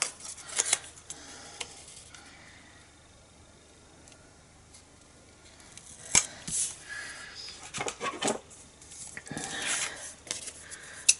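Cardstock in Bermuda Bay colour cut out by hand with scissors for a flower waterfall thank you card, giving scattered short snips and paper rustles, close and fairly quiet, with no talking.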